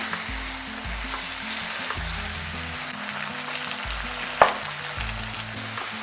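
Jackfruit curry sizzling steadily as it is stir-fried in a pan in oil with spices, a continuous frying hiss with occasional spatula scrapes and one sharp clank near the end, no voices.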